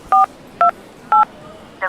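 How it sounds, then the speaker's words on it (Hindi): Three crisp touch-tone beeps from a telephone keypad as a number is dialed, each short and evenly spaced, followed by the start of a fourth tone, with quiet background and no talking. "तो उसने फोन मिलाया"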